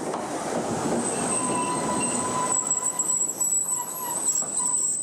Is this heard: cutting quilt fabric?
no